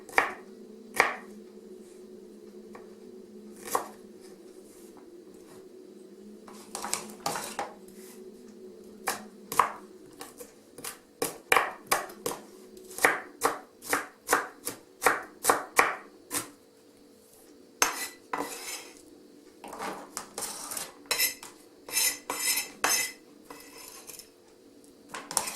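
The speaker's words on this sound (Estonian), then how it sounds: "Ja kummutan ka porgandi." Chopped carrots tipped into a multicooker pot among cooking clatter: a long run of sharp, close knocks and scrapes, some spaced and some in quick bursts, over a steady low background hum, with no talking.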